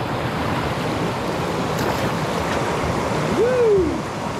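Fast-flowing water of St Patrick's Stream, a Thames backwater, rushing around a kayak: a steady, broad wash of turbulent flow filling the whole stretch, with a brief tonal whine near the end.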